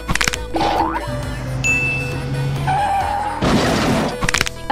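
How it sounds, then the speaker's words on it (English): Cartoonish bus crash: boings, tire squeals and skids with tonal effects, ending in a loud smashing burst near the end, then clattering debris; no talk. "Oh no, our Jesus bus crashed."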